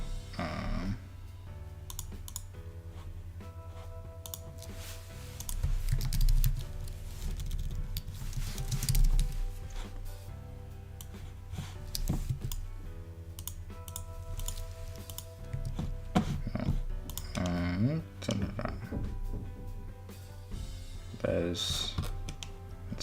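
Computer keyboard typing while modelling in Blender, light irregular key clicks in short bursts, close and fairly quiet, with a person talking over parts of it.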